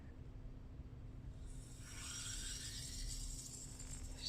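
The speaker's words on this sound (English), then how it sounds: "let's open up this new valve, the new line, just slightly" A new valve on an Uponor plumbing line is eased open slightly, bringing a faint rising hiss and rushing of water through the pipe over a low steady hum, quiet and close, with no voices.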